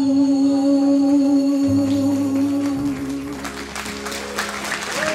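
Music with sustained tones from a musical duo at a festival fades out, and a burst of audience applause rises over it in the last couple of seconds.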